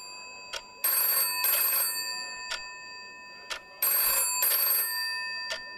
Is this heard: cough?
no